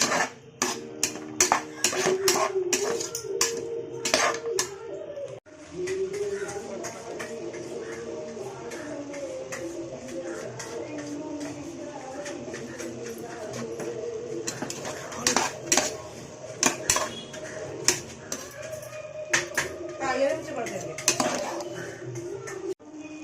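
Metal spoon scraping and clanking against a pot while stirring vegetable biryani with carrots, beans and peas, a steady run of close clinks and scrapes with brief pauses over about twenty seconds.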